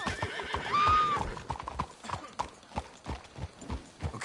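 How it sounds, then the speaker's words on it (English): Horses clip-clop along in Red Dead Redemption 2, with hoofbeats close and steady under rhythmic game ambience and a clear neigh near the start. "Let's hitch the horses up ahead."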